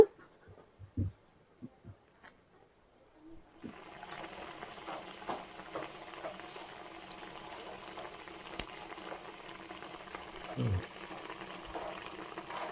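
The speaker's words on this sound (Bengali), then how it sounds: "দেখুন, নারকেলটা বেশ ফুটে উঠেছে।" A coconut mixture for kheer puli bubbles in a pan, soft scattered taps at first, then a steady low simmering burble with occasional louder pops, close but fairly quiet.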